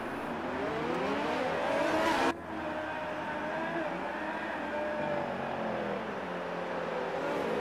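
Race cars in the F1 2018 video game, at the Brazil round, drive the formation lap with a steady, continuous engine drone that dips briefly once before carrying on at an even level.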